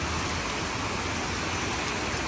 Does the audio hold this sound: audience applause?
no